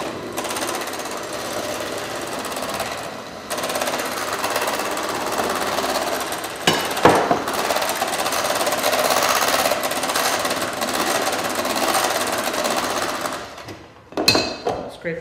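An electric hand mixer beating pancake batter made from Bisquick and milk in a bowl, a loud steady whirring drone lasting throughout, with a brief clatter near the end.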